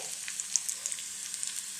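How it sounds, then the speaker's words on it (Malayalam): A faint, steady sizzle of hot oil as mustard seeds splutter with chopped dried red chillies, tiny scattered pops and crackles, quiet and continuous throughout. "എണ്ണ ചൂടായി വന്നിട്ടുണ്ട് ഒരു സ്പൂൺ കടുക് ഇട്ട് കൊടുക്കാം കടുക് പൊട്ടി വരുമ്പോൾ"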